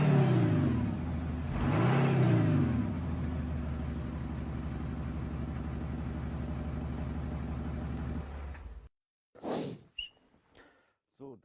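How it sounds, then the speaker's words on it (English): Audi 3.0L V6 TDI biturbo diesel in dynamic mode, idling with a deep rumble, then a strong rev that rises and falls around the two-second mark, followed by a steady drone that cuts off, with brief bursts of voices afterward. "The 6-cylinder engine now sounds like an 8-cylinder engine."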